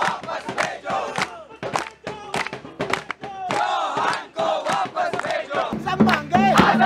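Students on strike at a film and television institute chant slogans together as a crowd, loud rhythmic shouted bursts rising and falling across the whole stretch with no individual speech standing out.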